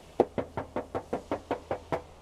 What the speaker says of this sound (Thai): แก้มผมเอาหลังมือเคาะให้ฟัง